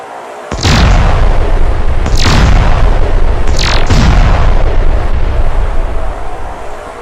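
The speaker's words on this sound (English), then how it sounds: "Purdock, fire the plasma cannons at will." Plasma cannons firing in a quick volley, three or four heavy booming blasts with descending whooshes that roll into a loud sustained rumble like an explosion.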